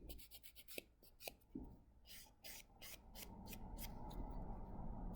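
Gel polish top coat is buffed off fingernails with a buffer in quick, close, soft rasping strokes, first as short separate scrubs and then as a steadier continuous rubbing.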